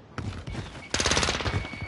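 Video game gunfire in a late-night play session, with a burst of rapid shots at the start and a denser, louder volley in the second half, close and sharp with no one speaking.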